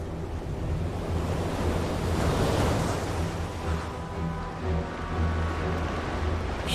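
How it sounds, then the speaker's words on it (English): Enormous ocean waves surge and crash without pause while strong storm winds roar across the water, a loud, continuous wash over a deep rumbling undertone. "Huge storms, fed by all this warm, shallow water, produce high winds and enormous waves."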